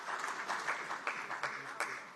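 A crowd claps steadily at a national conference opened by the Lok Sabha Speaker, a dense patter of applause from many hands.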